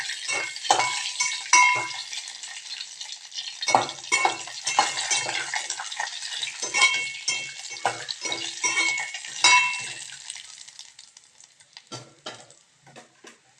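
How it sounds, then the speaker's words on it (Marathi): Cashews and almonds roast in ghee in a pan, heard as a thin crackling sizzle with repeated scraping and clinking stirs of a utensil against metal, close by and intermittent, fading toward the end. "काजू आणि बदाम तुपामध्ये भाजून घेतल्यामुळे"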